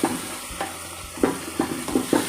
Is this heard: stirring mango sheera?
yes